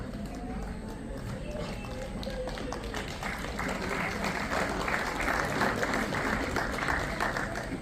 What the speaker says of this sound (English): Give a big round of applause for her, everyone.